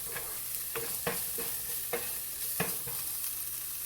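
Crushed ginger-garlic and chopped green chillies fry with onion in a hot pan, giving a steady sizzle broken by several sharp spoon scrapes and stirring clinks, close and moderately loud, with no voices.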